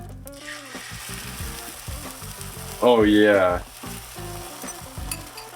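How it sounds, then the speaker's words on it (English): An egg and cheese mixture sizzles steadily in an olive-oiled pan, with soft clinks and scrapes of stirring and a brief spoken remark partway through. "You can hear it sizzling. That noise is called a sizzle."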